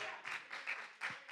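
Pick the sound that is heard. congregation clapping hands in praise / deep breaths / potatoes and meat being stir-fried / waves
congregation clapping hands in praise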